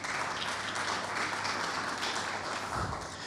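An audience applauds in a continuous wash of clapping, even and sustained, heard at a distance and fairly faint, at a MedTech conference panel.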